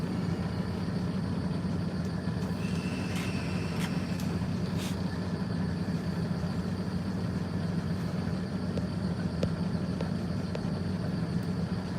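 A loud truck engine idles steadily and close by, a constant low rumble filling the whole stretch with no talk over it.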